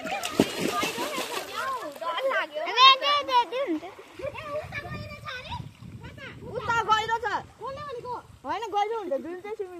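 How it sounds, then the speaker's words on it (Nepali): Children play and splash in swimming pool water on a hot day, their excited voices and shouts dominating over intermittent splashes and sloshing close by. "नानीहरू पानी खेल्नु थालिसक्यो।"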